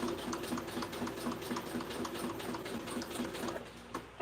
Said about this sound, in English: Stitch the wonky line.